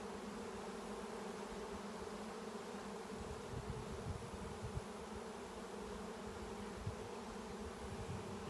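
A honey bee swarm buzzing steadily outdoors, a dense continuous drone of many wings at moderate loudness with no voices.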